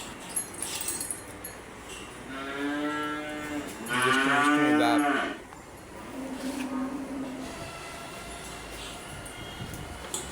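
A large farm cow moos several times, long drawn-out lowing calls with a louder bellow in the middle, over quiet background noise.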